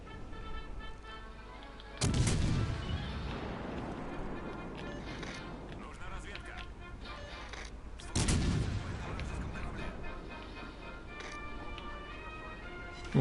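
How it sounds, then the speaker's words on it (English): Torpedoes from a friendly destroyer strike a target in a naval video game, two heavy booming impacts about six seconds apart over a constant rumbling battle background, each blast fading slowly. "some nice torpedo hits from the friendly destroyer"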